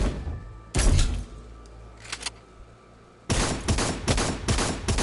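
Shotgun fire in a first-person shooter: loud, close blasts, one at about 0.8 s, a smaller pair near 2.2 s, then a rapid string of shots from about 3.3 s to the end, with no talk.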